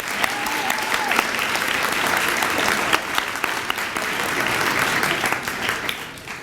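Sustained applause from an audience at a school honor society banquet, honoring a retiring office staff member; dense, steady clapping fills the room for several seconds with a few sharper claps standing out.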